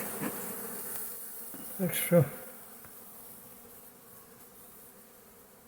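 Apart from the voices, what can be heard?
bees buzzing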